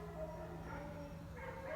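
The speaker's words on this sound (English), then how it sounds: "you can hear the dogs are barking" Dogs bark and yip faintly in the distance outdoors in the morning, a soft, thin sound over a steady low background hum.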